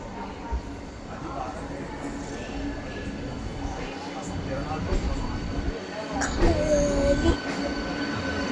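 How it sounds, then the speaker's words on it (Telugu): A local train rumbles past nearby in Hyderabad's HITEC City area with a steady rolling roar and occasional squeals of wheels, while people talk faintly in the background. "లోకల్ ట్రైన్ వచ్చింది చూడండి హైదరాబాద్"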